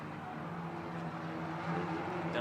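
Race cars at Sebring International Raceway in a TC America touring car event, a steady engine drone with harmonic bands holding fairly level, a more distant, mid-loud roar that rises slightly toward the end.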